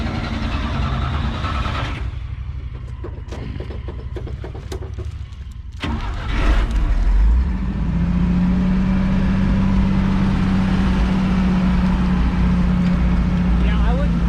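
A 1968 GMC truck engine turns over with uneven cranking bursts, then catches and settles into a steady, loud running hum close by, with people talking over it.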